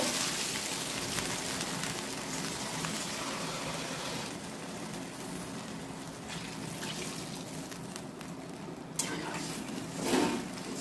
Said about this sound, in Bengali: এবার আমি আলু সেদ্ধ হওয়ার মতো জল দেব।